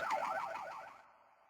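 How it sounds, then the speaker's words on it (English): An electronic alarm in a read-along story sounds one rapid warbling burst, wailing up and down in pitch for about a second and then fading out, heard alone without speech. "they got such a fright, the alarm went off"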